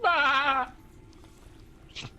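A human voice imitates a burning sheep's scream with one loud, wavering bleat lasting about half a second, followed by quiet and a short breathy sound.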